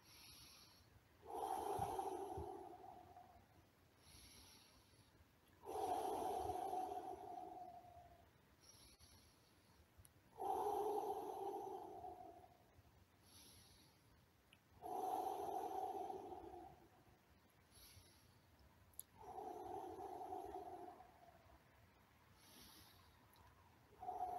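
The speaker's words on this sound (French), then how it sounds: "enlacer un arbre et respirer comme ceci" Slow, deep breathing while hugging a tree outdoors: five long, even breaths spaced a few seconds apart, each a soft airy rush, close and fairly quiet with no talking.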